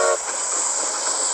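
A train in the Minecraft video game gives a brief, loud rumbling and squealing rail noise with a short whistle-like tone at the start, heard alone.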